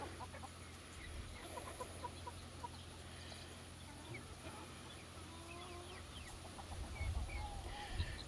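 Roosters cluck and murmur softly at a distance in a farmyard, with scattered short calls over quiet background and a low bump near the end.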